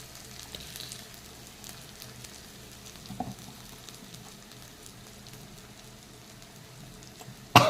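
A paste of ginger, garlic, chilli, coriander and cumin fries quietly in a pan with a soft, continuous crackle, a faint clink near the middle and a sharp clatter at the very end.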